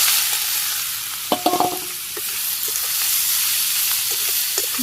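Water lily stems being stir-fried with fried onions in a Bangladeshi home kitchen, a steady near sizzle with a sharp clatter of utensils early on and occasional stirring scrapes.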